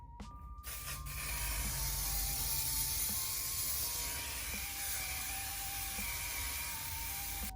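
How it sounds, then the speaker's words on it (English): A long continuous aerosol hair holding spray hisses close up for several seconds, steady and fairly loud, with faint mechanical clicks underneath. "I spray it on top of my hair because my hair has a tendency to curl back up."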